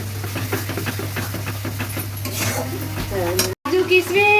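Spice paste for vegetarian khichuri is stirred and fried in a pot. A continuous sizzle comes with repeated scraping stirs and a low steady hum. A brief dropout is followed by a few tonal notes near the end, and no one talks.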